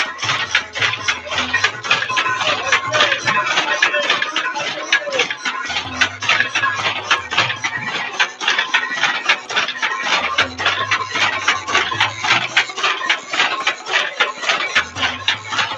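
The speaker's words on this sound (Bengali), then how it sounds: "এখানে একটি তাঁত শিল্প তাঁতের কাজ করা হচ্ছে" A loom weaving a saree clatters on in fast, rhythmic mechanical clacking, with a low repeating thump pattern under it, loud and close throughout.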